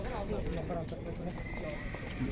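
Horses at a livestock market in Bishkek whinny and shuffle amid a busy crowd, the calls moderately near and mixed with hoof clatter beneath steady overlapping talk.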